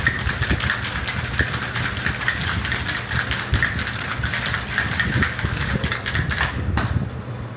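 A Royal Enfield motorcycle engine runs close by on a street in Candolim, North Goa, giving a steady low thumping idle with a slight throb that continues throughout.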